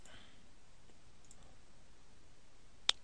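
A single sharp computer mouse click near the end of a quiet stretch, close and crisp, made while adjusting options in AutoCAD, with faint background hiss and no speech.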